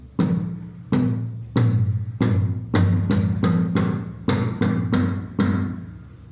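Tabla sound played on a Rhythm Pad digital drum pad: about ten separate strikes in an uneven rhythm, each with a sharp attack, a resonant low ring and a quick decay, loud and close, with no talking.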